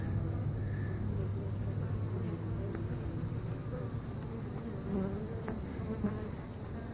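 Honeybees swarm inside a bird house hive during a cut-out in Lakeland, Florida, making a steady, dense buzz that holds at an even, fairly close level throughout with no pauses.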